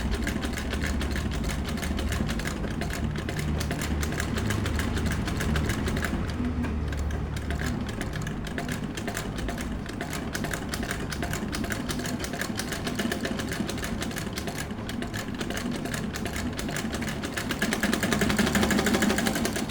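A tailoring sewing machine runs continuously while stitching a straight line, a steady close mechanical whir with a rapid needle rhythm that holds for the whole stretch, swelling slightly louder near the end.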